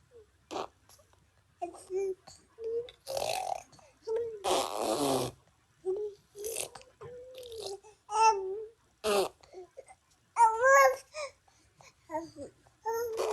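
A baby babbles in vocal play: scattered short vowel-like coos, squeals and raspberry-style buzzes separated by pauses, close and fairly quiet, including a longer blown burst.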